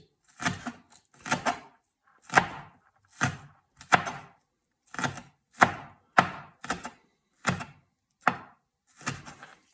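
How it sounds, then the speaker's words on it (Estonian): A knife finely chopping ingredients on a cutting board for a Greek grill sauce, about a dozen crisp, close, evenly spaced chops in short runs, with no voices. "Mitte nüüd nii peeneks, et teda üldse näha ei ole."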